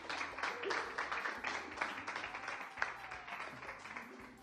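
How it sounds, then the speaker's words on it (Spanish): Faint, scattered clapping from a studio audience on a Canary Islands afternoon TV show, steady for a few seconds, with murmuring voices underneath. "un aplauso, ¿no?"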